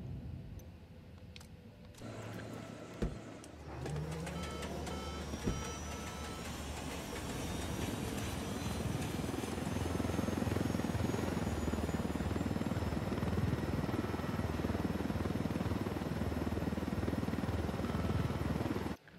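A cartel supply helicopter in the video game Tom Clancy's Ghost Recon Wildlands, its rotor roar and engine whine building from a brief quieter start into a loud, sustained, steady drone that holds for the rest of the stretch.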